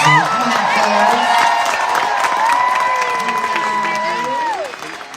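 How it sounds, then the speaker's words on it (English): A studio audience at a weekend entertainment show applauds and cheers as three contestants walk out. The loud, sustained clapping and crowd noise run under bright music until they fade near the end. "please give a massive round of applause to Lauren, Amanda and Katie"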